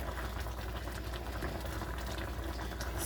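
Coconut oatmeal being stirred in a stainless steel pot, a steady close bubbling, scraping churn that holds evenly throughout with no talk over it.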